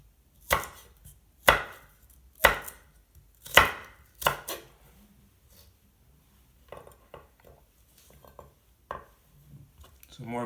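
Knife chopping vegetables on a board into thin brunoise slices: five sharp, evenly spaced chops about a second apart, followed by softer, scattered cuts and light scraping.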